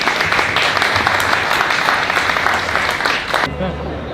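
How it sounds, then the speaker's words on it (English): A festival audience at the Cyprus International Film Festival in Nicosia gives filmmakers sustained, loud applause, a thick rush of many hands clapping that tapers off near the end. "Can we have a huge round of applause again?"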